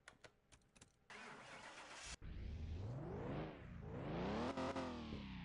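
A car engine in Car Mechanic Simulator starts after a few clicks and a cranking whir, then catches and revs up and down loudly before settling into a high, steady rev, with no voices over it.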